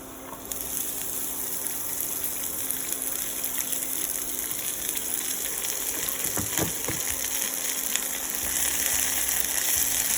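Chopped okra frying with garlic masala in a pan, a steady low hissing sizzle throughout with a brief burst of crackling as the okra goes in partway through.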